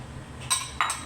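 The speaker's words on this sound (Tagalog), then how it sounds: "Halo na natin ito mga kaati. Yung ating salad." Utensils mixing a beetroot and corn salad: two quick clinking knocks against a bowl, close and fairly faint, over a low background hum.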